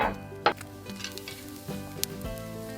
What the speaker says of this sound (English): Well, we got the chicken on the grill